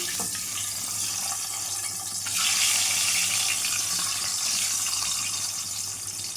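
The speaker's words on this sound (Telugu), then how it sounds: "ఆయిల్ అయితే హీట్ అయింది కదా ఎగ్స్ అయితే వేసేసుకుందామండి" Eggs dropped into heated oil fry with a continuous hissing sizzle that swells louder partway through, close up with no talk.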